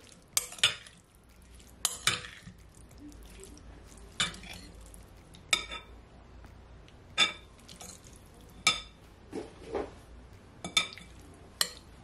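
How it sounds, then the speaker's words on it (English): A spoon stirs raw seafood with lemon juice in a bowl as a chow mein marinade, producing sharp metallic clinks against the bowl every second or so over a soft, wet mixing sound, close and alone. "I'm just taking my spoon and just mix it all in."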